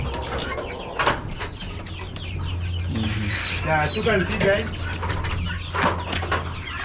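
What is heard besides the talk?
chickens clucking near their water drinkers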